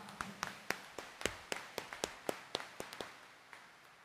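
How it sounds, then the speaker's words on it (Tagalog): A church congregation at a homily claps with raised hands, a faint, distant patter of scattered, irregular claps continuing for a few seconds. "itaas ang kamay at pumalakpak ng mas malakas"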